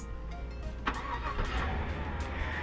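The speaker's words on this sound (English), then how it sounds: "To activate remote start, you just press the lock button twice and then press the top button" A 2017 GMC Sierra 1500 SLT pickup starts by remote start. The engine cranks and catches with a sudden burst partway through, then settles into a steady, moderately loud mid-pitched running sound.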